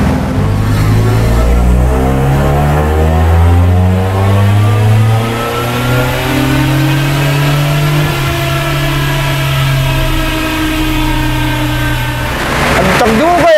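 A small turbocharged Toyota Raize engine revs hard and pulls up through the gears, loud and close, the pitch climbing steadily with voices talking over it.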